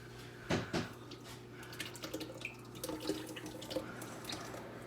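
Liquid is poured into a cooking pot for chicken and noodles, a faint, low-level splashing and trickling with a couple of soft clunks near the start.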